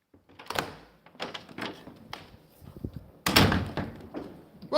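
A door closes with a heavy thud and clatter as someone comes in, preceded by shuffling knocks and handling noises nearby; no talking.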